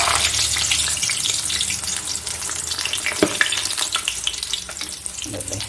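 Jackfruit seed pooris fry in bubbling hot coconut oil, a steady close sizzle with crackling spatters and a few sharp pops, no voices.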